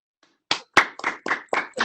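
Meeting attendees clapping in a short burst of applause, a handful of distinct claps following a faint first tap, close and fairly quiet with no talking.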